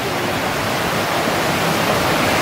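Flowing water in the mountains near Tepoztlan during the rainy season, a steady loud rushing wash like a stream or small waterfall, close and unbroken with no voices.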